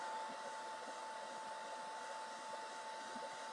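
Steady, constant whoosh of a hair dryer blowing on a chalk craft project, a continuous broadband airflow roar with a faint motor whine, holding level and close-up for the whole stretch with no talking.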